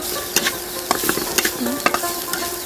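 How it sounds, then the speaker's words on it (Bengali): Beef with ginger fries in a pan as it is stirred, a soft continuous sizzle broken by quick scraping knocks of the utensil at an uneven pace, moderately close and without voices. "আরো কিছুক্ষণ ভাজবো"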